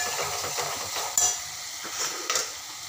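Red chili powder, turmeric and salt stirred into hot oil in a pan for okra masala, a close sizzle with scraping spoon strokes and two sharp clinks against the metal.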